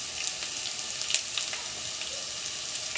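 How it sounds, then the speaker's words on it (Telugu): Ginger garlic paste and turmeric frying in a pan for chicken fry, a steady soft sizzle with faint crackles running throughout, moderately quiet and with no talking. "అల్లం వెల్లుల్లి పేస్ట్ వేగిపోయింది. పసుపు వేసేస్తున్నా."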